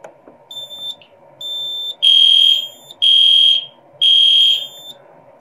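An EST3 fire alarm panel sounds a drill alarm: three loud, shrill, evenly spaced tone bursts, each about half a second long, over a low hum and faint softer beeps, with no talking.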